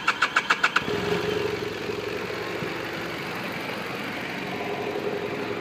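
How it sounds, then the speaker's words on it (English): A 2013 BMW F700GS motorcycle starts with a short burst of cranking pulses, then catches and settles into a steady, even idle close by, with no voices. "Let's give her a little start."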